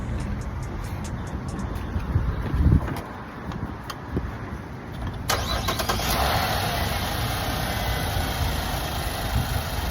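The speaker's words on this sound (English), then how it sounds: "I'll have her to start the engine" A car engine cranks and starts in a workshop setting during a fuel vapor valve check, a brief crank around the midpoint followed by a steady close idle with a faint whine and some wind noise.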